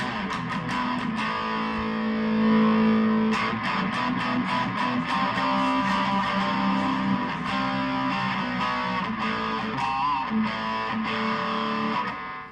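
A distorted electric guitar, a Busker's Stratocaster, plays continuously, loud and gritty with sustained chords and picked notes, no voices present.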